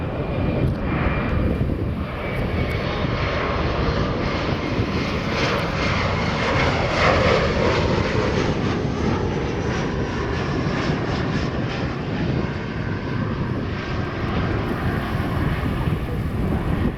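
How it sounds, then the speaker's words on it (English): An Alaska Horizon ERJ-175 jet on final approach to a southern runway at Portland gives a steady, broad roar with wind buffeting the microphone. It stays fairly constant throughout, heard from a distance outdoors. "Here we have an Alaska Horizon ERJ-175"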